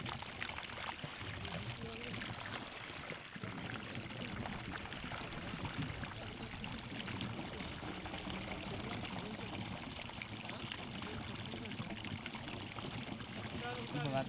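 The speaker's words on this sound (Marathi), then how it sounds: "पाणी वाजतंय पण खाली जाते सगळं." Irrigation water gushes from a pipe into sugarcane furrows on a farm, a steady, continuous rushing flow that runs close by for the whole stretch.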